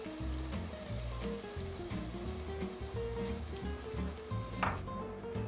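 Ginger garlic paste sizzles with onion in a frying pan, a steady close hiss with the soft scrape of stirring and a brief clink of the pan near the end.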